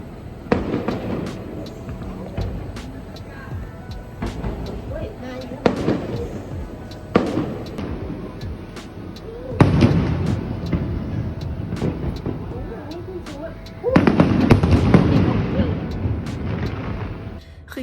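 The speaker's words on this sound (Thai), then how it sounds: "เขามีจุดพลุแล้วก็สวยมาก" Fireworks over Pattaya, Thailand, pop and crackle in bursts, with loud booming clusters at intervals, heard from a distance amid background chatter.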